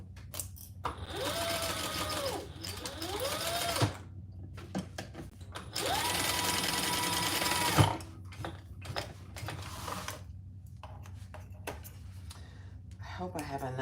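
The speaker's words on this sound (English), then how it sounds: "Now we're just gonna baste that in place." A sewing machine bastes D-rings in place on a bag in two loud, steady bursts of rapid stitching separated by pauses, with clicks and handling noises and someone speaking between runs.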